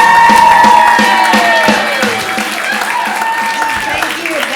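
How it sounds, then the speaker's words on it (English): Audience applause for a comedian at a comedy bootcamp show, a steady wash of clapping with some cheering that stays loud and fills the room, easing slightly toward the end. "big round of applause for Kate Sawa"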